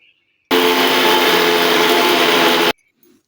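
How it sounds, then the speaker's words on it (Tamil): A kitchen mixer grinding cloves and curry leaves into a thick paste for hair dye oil runs with a loud, steady whirring grind for about two seconds, starting and stopping abruptly. "இப்போ இதே வந்து நம்ம நல்லா ஒரு திப்பாக ஒரு அரைச்சி எடுத்துகிட்டு வந்துடலாம்"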